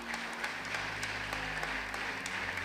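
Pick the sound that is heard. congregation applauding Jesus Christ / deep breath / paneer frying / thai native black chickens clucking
congregation applauding Jesus Christ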